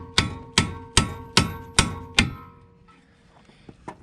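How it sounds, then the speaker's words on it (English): A hammer strikes a wedge to pop a car's lower ball joint loose: six sharp, loud metallic blows at a steady beat close by, each ringing briefly, followed by quiet with a few faint clinks. "Now we'll hit on the end of it with a hammer, and it's like a wedge, so when it goes in, it makes a bigger space"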